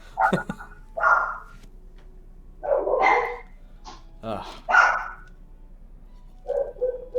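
Several dogs bark in short bursts across the clip, fairly close and clear, with a brief pause between groups of barks and no speech over them.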